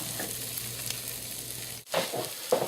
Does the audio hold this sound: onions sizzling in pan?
yes